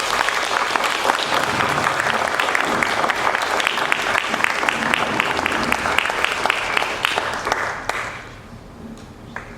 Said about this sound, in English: Join me in a round of applause in congratulating Mr.